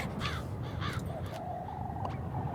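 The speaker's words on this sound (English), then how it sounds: "This crow, it's speaking to me." Crow cawing in a video game: a few harsh, raspy caws in quick succession over a low ambient background, with no talking.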